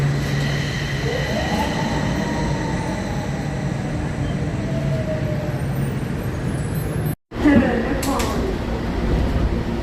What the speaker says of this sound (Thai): รถไฟฟ้าสายสีทองมาแล้วครับ